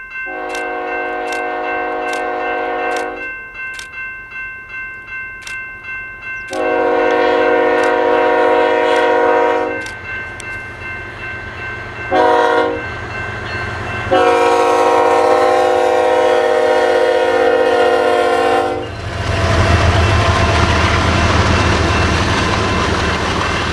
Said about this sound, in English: BNSF 7114 West bypassing the connection with the long grain train